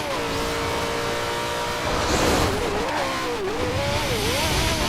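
Car engine in Forza Horizon 2 droning steadily with rising and falling pitch as the driver shifts and steers, tires scrubbing through the middle, loud and close with no talking.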